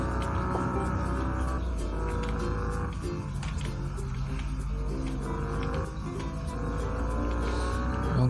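A family car races in the Bus Simulator Indonesia game, its engine droning and revving steadily with squealing tires, loud and continuous throughout.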